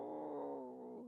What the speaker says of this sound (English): my my cat is growling so hard at another cat